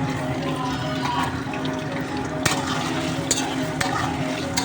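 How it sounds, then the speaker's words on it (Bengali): Paneer and potato frying in oil in a wok over medium heat, a continuous close sizzle with scraping stirs and a few sharp taps of the spatula against the pan. "পনিরটাও ভালোভাবে ভেজে দেবো"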